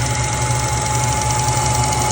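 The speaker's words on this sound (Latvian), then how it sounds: "Motors uzsils jau kaut kāds minūtes 20 šeit darbojās" A warmed-up Subaru Impreza engine idling after about twenty minutes of running, a steady low hum with a faint whine, close and even throughout.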